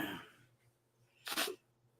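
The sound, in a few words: cat sneezing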